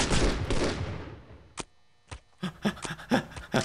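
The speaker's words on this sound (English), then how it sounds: "I like this police issue pistol." Police issue pistol shots in Postal 2, a loud burst of rapid gunfire that decays, then several single sharp shots spaced apart, some overlapping with short vocal sounds.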